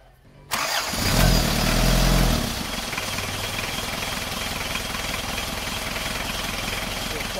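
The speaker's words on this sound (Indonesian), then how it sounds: "Setelah itu mesin langsung kita hidupkan" An Isuzu Panther diesel engine cranks and catches with a loud, rough start, then settles into a steady clattering idle that continues to the end.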